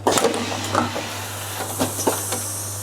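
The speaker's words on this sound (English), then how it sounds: "180 degrees Celsius warm steam will be injected into the molds to preheat the stampers" Steam at 180 degrees Celsius is injected into vinyl record press molds at a Copenhagen pressing plant, giving short hissing bursts over a steady low machine hum.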